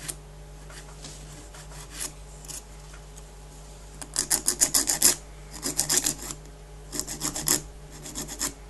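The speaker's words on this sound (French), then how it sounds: "Je vais en dessous bien à plat avec la lime et je lime en remontant" A hand file rasping to round off a square shape: bursts of quick, close back-and-forth filing strokes, quiet at first and then in three louder clusters, no voices.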